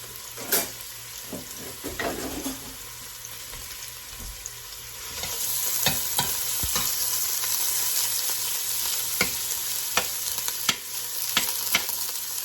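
A large onion drops into hot olive oil and settles into a loud, steady sizzle close by, with a few knocks and clatters of cookware around it and no talking.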